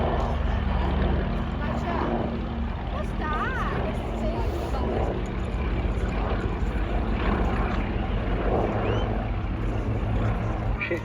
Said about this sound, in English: The Extra 330, a German designed and built aircraft